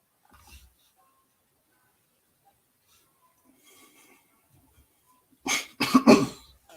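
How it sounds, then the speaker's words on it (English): A man gives a few sharp, harsh coughs close to the microphone, loud and bunched together after a long stretch of near silence. "I don't mean to cough in the stream"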